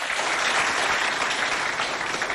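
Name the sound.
audience applause for Doba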